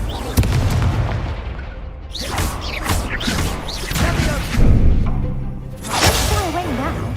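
Confringo fire spell blasts in the Hogwarts Legacy video game, a string of loud booming, whooshing bursts with swelling impacts and rising sweeps, dense and continuous with a big blast late on and a voice heard briefly among them.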